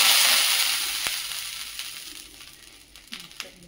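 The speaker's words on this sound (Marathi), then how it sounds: "टाकला आपला तवा, थोडे पाण्याचे शिंपले टाकून द्यायचे" A loud hiss of sizzling as water is sprinkled on a hot griddle before making thalipeeth, strongest at first and slowly fading, with a few small crackles near the end.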